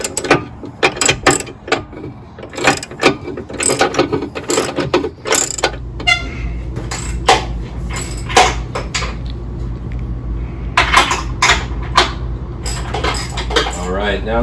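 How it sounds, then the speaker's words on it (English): Hand ratchet loosening the bolts on a Jeep JL bumper, with rapid clicking pulls in bursts alongside clanks of tools and metal, close up, over a low hum and some talk. "you will have to use a ratchet, or if you have a really small impact, you might be able to get it in here"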